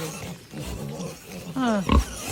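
A pig on a farm gives a loud, close squealing grunt near the end, following a quieter stretch of low snuffling and muffled background voices.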